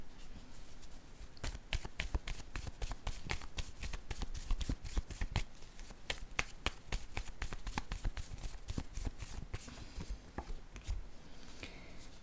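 A deck of playing cards is shuffled repeatedly, a steady stream of crisp, close riffling flutters and snaps over roughly twelve seconds with no talk.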